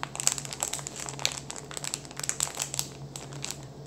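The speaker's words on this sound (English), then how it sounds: "It's a very good package for crinkling." A plastic package is handled up close in an ASMR setting, giving continuous crisp crinkling and crackling with dense irregular bursts throughout, soft and intimate, with no speech.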